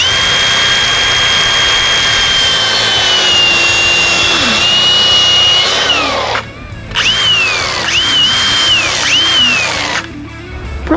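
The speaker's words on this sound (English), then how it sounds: "let's cut it with our cutting wheel, and we're gonna try to cut it as straight and even as possible" A high-speed cutting wheel slices through a PTFE braided transmission cooler line for a 4L80E, a loud, close whining screech that shifts pitch under load, briefly stops, then resumes in short cuts.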